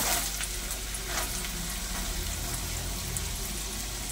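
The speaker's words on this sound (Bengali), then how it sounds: "ক্যাপসিকাম, আর বিনস, সব কিছু একসঙ্গে খুব ভালো করে ভেজে নেব।" Carrots, capsicum and beans fry together in hot ghee and white oil, a dense, continuous close sizzle with scattered crackles and faint stirring scrapes.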